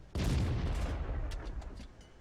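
A tank cannon fires in World of Tanks, from an Object 416: one sudden, loud, broadband boom that rolls on and decays slowly over about two seconds, with faint crackles in the tail.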